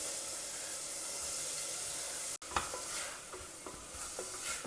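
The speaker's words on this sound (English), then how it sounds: "Stir fry the vegetables also well along with all the masalas." Vegetables with masalas stir-fried in a pan give a continuous bright sizzle, broken by a brief pause midway, followed by scraping stirs and crackles.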